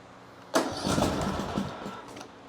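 A brand-new replacement engine on a John Deere 100 Series lawn tractor cranks and catches with a sudden burst, then runs roughly for a couple of seconds, loud and close.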